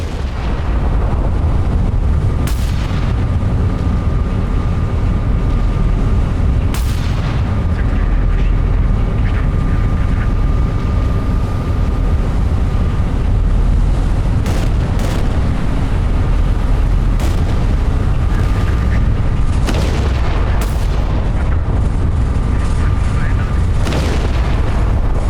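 Naval ship gunfire in the game Battleship Command, a steady deep rumble of booms and artillery with sharp shot transients at irregular intervals, loud and continuous throughout.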